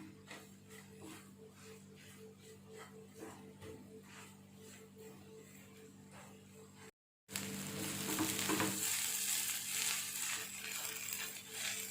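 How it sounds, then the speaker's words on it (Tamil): Egg kothu parotta with salna stirred and mixed while frying, a steady sizzle with repeated scraping and tapping of the spatula, growing louder and brighter after a brief gap. "நல்லா கலந்து விட்டுடுங்க"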